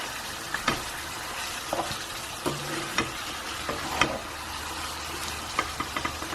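Chicken rice with coriander, garam masala and coconut sizzles and fries in a pot, a steady close crackle broken by several sharp stirring clinks and scrapes, with no talking.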